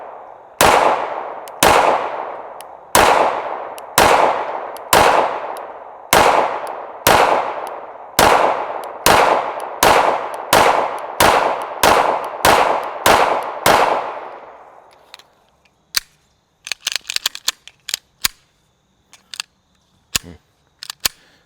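A Staccato C2 DUO 9mm pistol, a 2011-style handgun, fires a long string of loud, sharp shots at a steady rhythm with a brief pause partway through. The shots then give way to scattered metallic clicks and handling noises.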